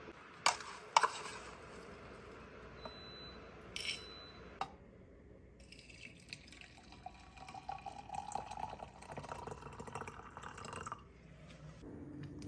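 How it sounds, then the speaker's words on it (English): Tea being poured into a mug over honey in a kitchen: soft liquid trickling and dripping with a few clinks at first, then a steadier, quiet pour that tapers off near the end. "when I pour the tea in, It just melts the honey"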